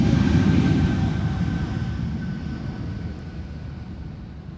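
An Air Baltic airliner bound for Tallinn takes off from Schiphol's Polderbaan runway, a deep rumbling engine roar with a faint whine that gradually recedes.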